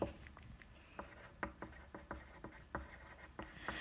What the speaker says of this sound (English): Let me write that better